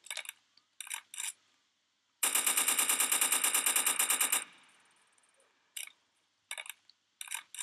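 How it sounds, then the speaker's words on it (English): AK-47 fire in the Roblox game Prison Life: a few short automatic bursts, then one long sustained rapid burst of about two seconds, followed by more brief bursts, loud and close with no talk. "I mean, shoot him. AK-47 him."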